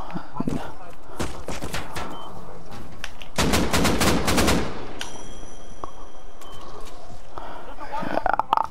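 Gunfire in a horror video game, loud rapid bursts and single shots cracking in clusters, with a long sustained volley midway, while a voice talks over it.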